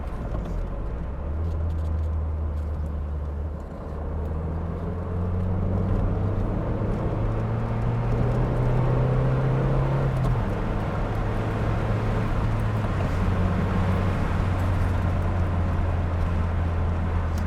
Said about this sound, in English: So it's quite a nippy car.